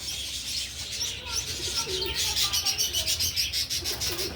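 A racing pigeon arrives at the loft during a fun race in Calauag, Quezon, with close, steady cooing, bursts of chirping and a light flutter of wings in a busy outdoor setting.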